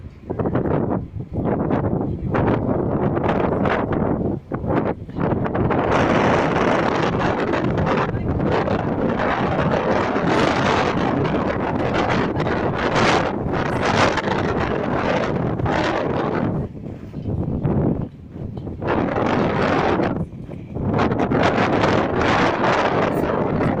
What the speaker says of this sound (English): So hopefully the wind isn't carrying my voice. It's playing havoc with my hair though.